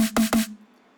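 Dry snare drum designed in the Kick 2 synth plugin, without effects: three quick, tight hits in a row with a tonal body and short noisy crack, followed by a brief fading tail and silence.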